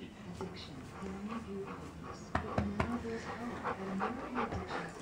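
A pet dog at home pants rapidly right beside the camera, breaths coming in a quick steady rhythm with a few thin whimpers and light bumps of movement mixed in.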